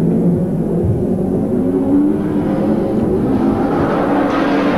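Late-1980s GP midget race cars restart on the Newcastle track, a loud, steady engine rumble and whir with revving pitch rising toward the end.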